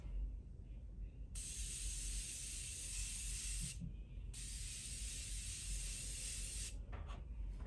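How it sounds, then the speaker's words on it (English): Setting mist sprayed in a makeup routine: two long continuous hissing bursts of about two and a half seconds each, close and steady, separated by a short pause, with no talking. "So to finish, I'm gonna add the Morphine Continuous Setting Mist."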